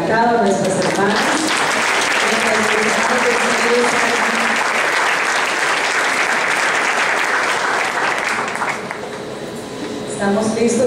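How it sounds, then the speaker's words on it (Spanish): Loud, dense applause from a congregation at a women's church gathering continues steadily for about nine seconds, with voices mixed into the crowd, then briefly thins before swelling again. "aplauso adelantado a nuestras hermanas."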